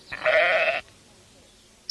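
A single loud sheep bleat, nasal and wavering, sounds for about half a second close to the microphone, then quiet follows, with no talking.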